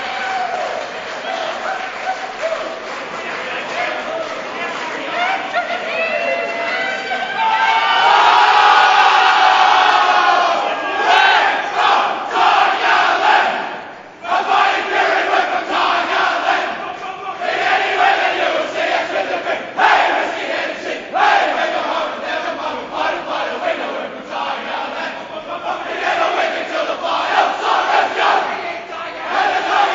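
Richmond AFL players chant and sing their club song together in the rooms after a 2012 win over Hawthorn, a loud, raucous group chorus with shouting, thumping and cheering throughout.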